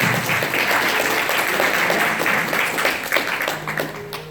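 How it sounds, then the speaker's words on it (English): Audience applause fills a convention panel room at a retro game speedrunning event, a steady wash of many hands clapping for several seconds before it thins out. "give yourselves a round of applause"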